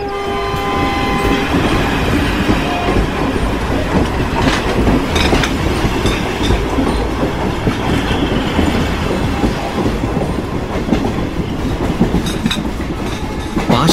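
A train starts and runs in an audio drama sound effect, with a horn blast at the start followed by steady rumbling and rhythmic clatter of wagons on the rails, loud and close throughout.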